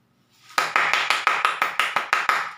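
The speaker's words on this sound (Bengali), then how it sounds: "আবার হাততালি দিলাম আপনাদের জন্য।" A steady run of about nine evenly spaced hand claps, close and fairly loud, with no voices in between.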